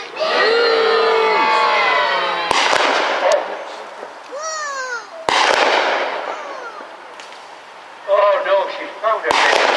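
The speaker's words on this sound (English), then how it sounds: "the enemy submarine decides to finish off the now helpless vessel with her deck guns" Model submarine's deck guns fire in a staged mock naval battle at Peasholm Park, Scarborough, sharp loud bangs with crackling bursts echoing over an outdoor lake, amid crowd noise and a loudspeaker voice.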